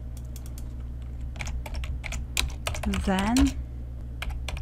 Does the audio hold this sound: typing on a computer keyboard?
yes